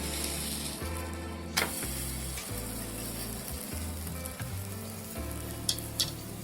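A pearl millet dhebra flatbread fries in oil on a pan, a continuous close sizzle with a low rhythmic hum in the background and a few sharp clicks and spatters.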